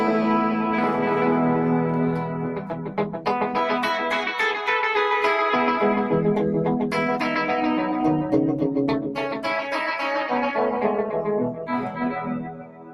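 Guitar played through a Yamaha delay pedal, dense sustained notes smeared by repeating echoes and a wobbly modulated tail that thins out as the decay fades at the end, with no talking.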